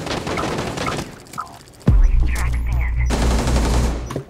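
Gunfire in Rainbow Six Siege: rattling automatic bursts open the moment, then a brief quieter lull and a deep low rumble, before another burst of rapid shots closes it out.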